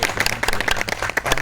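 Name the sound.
audience clapping in welcome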